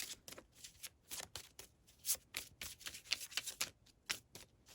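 Tarot cards are shuffled in quick riffling bursts, a rapid flurry of crisp papery flicks repeating close up with short pauses between.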